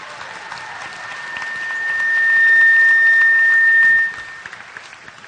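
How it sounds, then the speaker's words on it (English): A graduation audience at Guam High School applauds, with clapping swelling to a loud, sustained roar that cuts off sharply after about four seconds and leaves scattered faint claps. "please give one more round of applause for Ininan Isenata."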